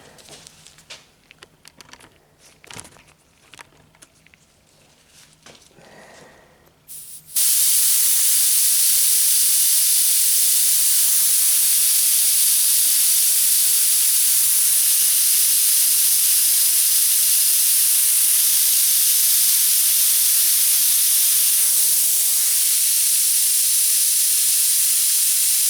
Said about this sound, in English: Seems to be spraying okay